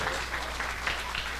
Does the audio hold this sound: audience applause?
yes